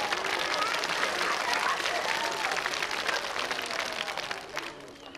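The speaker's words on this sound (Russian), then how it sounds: "Аплодисменты Ане!" A studio audience at a TV quiz show breaks into sustained applause, a full even roar of many hands clapping that holds steady for about five seconds before easing slightly at the end.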